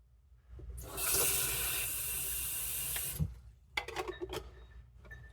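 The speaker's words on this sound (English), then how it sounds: "I'm gonna add more water before, it's probably more than enough," Tap water runs into a pot in a kitchen in a loud, steady gush for about two seconds, then stops, followed by a few soft clatters and knocks.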